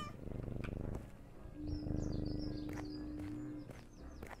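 A cat purrs in the video game Small Island Woes, a low, steady rumbling flutter that runs throughout over soft ambient game tones.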